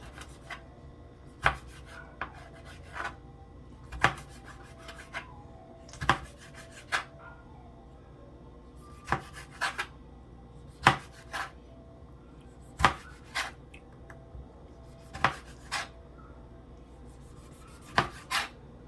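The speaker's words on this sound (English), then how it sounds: "Now I'm gonna cut my tomatoes." A slightly dull kitchen knife cutting tomatoes on a cutting board while ackee and saltfish is being prepared, with sharp, irregular chops and clacks against the board, spaced out with pauses, close and clear, no speech.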